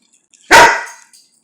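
One dog, indoors in a kitchen where whole bluegill is being cooked, gives a single loud, close bark. Near silence comes before and after it.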